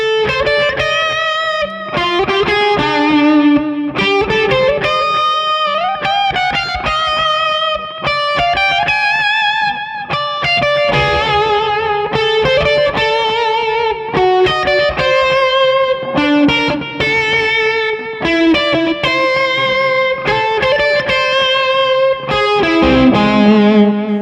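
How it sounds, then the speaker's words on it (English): Electric guitar plays bluesy phrases with a distorted, effects-laden tone, steady and loud throughout with bent notes and short rhythmic licks. "I'm going to play a blues."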